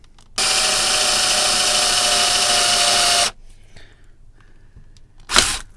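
A power drill whirs loudly and steadily for about three seconds while cutting large holes in a clear plastic face-plate, then cuts out, followed by quiet and a brief burst of noise.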